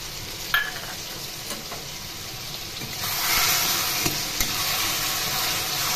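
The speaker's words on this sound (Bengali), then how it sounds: "খুব ভালো করে নেড়ে নেড়ে কচুর শাকগুলো গলিয়ে দেব" Taro greens cooking with hilsa fish head in a pan, seasoned with sugar, cumin, chilli and ginger paste, a steady sizzle that swells into louder hissing steam midway, with occasional spatula scrapes and knocks, close, no speech.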